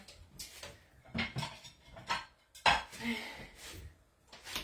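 A green bean casserole is cut with a utensil and served onto a dish, giving a few quiet clinks and scrapes of metal on cookware at irregular intervals, close by and faint.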